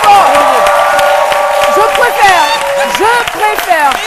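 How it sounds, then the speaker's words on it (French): A French TV studio audience on a midday cooking show applauds loudly and steadily for a guest chef, with the sustained clapping and cheering washing over the whole stretch while a host's voice carries on over it. "On l'applaudit très fort."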